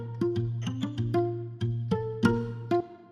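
A guitar part for a Christmas pop song, doubled with a darker unprocessed copy for thickness, plucks a melodic line of separate notes with sustained low tones underneath, close and dry, no voices.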